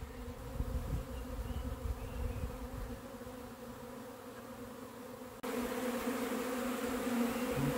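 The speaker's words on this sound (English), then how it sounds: "the swarm is starting to weigh down that branch" A honey bee swarm hangs from a branch above a nuc box and gives off a continuous, dense buzzing hum that carries on without a break. The hum grows a little louder and brighter partway through.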